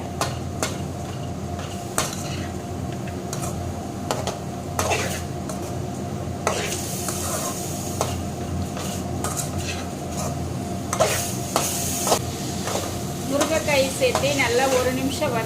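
A spoon scrapes and clanks against a cooking pan in irregular strokes while vegetables with drumsticks sizzle and stir steadily underneath.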